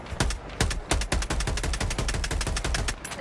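Rapid bursts of automatic gunfire from enemy machines in the video game Helldivers 2, sharp close cracks in an uneven rapid rhythm throughout.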